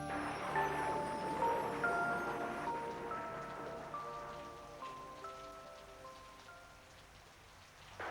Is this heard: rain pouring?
yes